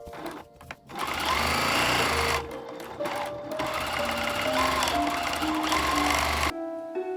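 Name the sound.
sewing machine stitching fabric edge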